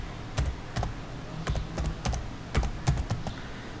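Clicky keystrokes on a computer keyboard while Fortran 77 code is written, irregular bursts of close, distinct taps with short pauses between, no talking.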